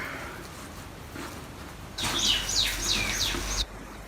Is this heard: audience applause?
no